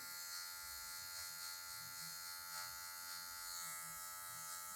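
An electric hair clipper, using just the tip of the blade, trims away a line while cutting a V-shaped mid fade, giving a steady close-up buzz that hums evenly throughout.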